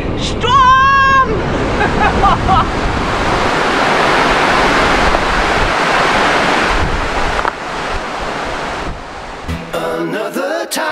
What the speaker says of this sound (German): Es ist windig!